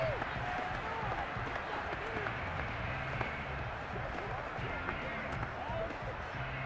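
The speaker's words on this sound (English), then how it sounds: "How about some applause for the defense there?" A stadium crowd in the video game Madden 22 keeps up steady applause and cheering during a simulated Steelers vs Bengals NFL game, with commentary talking over it throughout.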